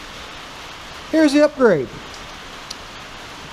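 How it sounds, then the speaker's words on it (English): Rain falls steadily on a house roof, a continuous soft hiss beneath someone speaking briefly close by. "I hope you can hear me over that rain on my roof."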